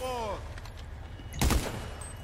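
Gunfire in GTA Online: a short burst of shots crackles mid-clip amid game sounds, with someone talking over the action.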